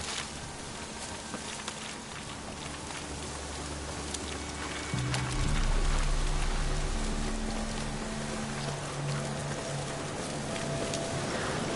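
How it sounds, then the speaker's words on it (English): Steady rain falls in The Witcher 3 video game, a constant wash of patter that continues alone for the whole stretch, with low tonal game ambience growing slightly louder midway. "Looks like rain."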